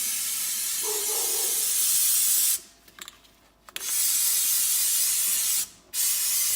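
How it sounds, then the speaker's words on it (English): Aerosol can of Maxima oil sprayed onto a dirt bike air filter, a steady close hiss in long bursts with a short pause and a brief gap near the end, no talking. "Spray it all over your air filter."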